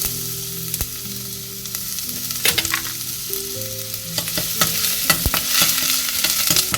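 Ginger frying in hot coconut oil at the start of a Malabar fish curry, a loud close sizzle with sharp spoon clicks and scrapes against the pan, no one speaking.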